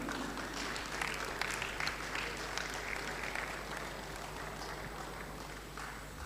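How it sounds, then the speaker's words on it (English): Faint, steady applause from a gathered crowd at a women's football tournament draw ceremony, heard at a distance as a continuous patter over low background hum. "A round of applause for him, please."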